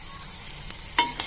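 Curry leaves, coriander and ginger-garlic paste sizzle briefly in a pan for pumpkin palya, a close hissing spatter with a sharp burst of crackle near the end.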